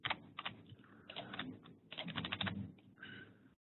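Computer keyboard typing in short bursts of quick clicking keystrokes with brief pauses, close and fairly quiet, no one speaking.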